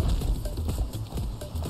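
Hooves clop at a steady trot in the game Far Cry 6 over a dense, loud background rumble, the beats quick and evenly spaced.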